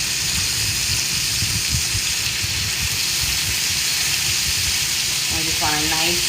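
Lamb chops sear in a hot pan with a steady, loud sizzle and crackle throughout, a continuous frying hiss close by with no talking.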